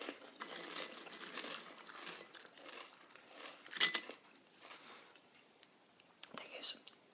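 Crisps are eaten close up: a bag crinkles and crunchy bites snap in short bursts, with soft whispering in between.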